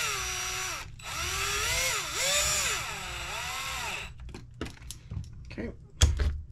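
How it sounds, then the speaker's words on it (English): A power tool drives a screw into a part of a Losi Mini B RC car, a steady whining whir with rising and falling pitch for about four seconds, followed by short clicks and bursts of handling. "use a power tool for this one."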